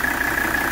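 A 1984 Mercedes 300SD engine idling smoothly, a steady, close, even drone with a constant tone and no talking.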